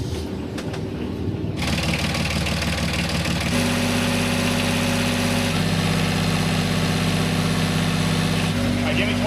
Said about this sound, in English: would you do us the honors of turning on the starboard engine?